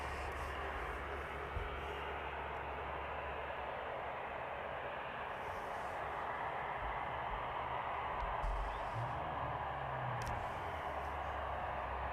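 West Atlantic cargo aircraft approaching East Midlands airport, a steady broad engine roar that holds throughout at moderate distance, with faint low rumbles and no talk.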